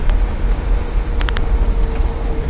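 Inside a moving car, a steady low road and engine rumble fills the cabin, with a few brief faint clicks or chimes partway through and no talking.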